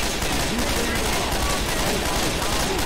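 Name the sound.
gunfire in Star Wars video game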